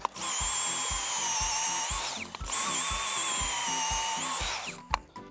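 A hand-held earth drill bores into sticky soil that keeps clinging to the bit, giving a loud, steady motor whine with a rhythmic thumping beneath it for about five seconds before it briefly stops and starts again.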